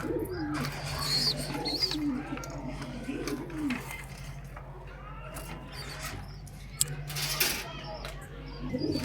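Pigeons kept on a home balcony coo softly and intermittently at a low level, while a person talks nearby and small knocks and rustles come and go.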